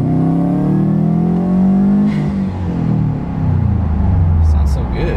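2017 Subaru WRX STI engine heard from inside the cabin with the windows up, droning loudly and rising in pitch as the throttle is floored from about 3,000 RPM, with a voice talking over it.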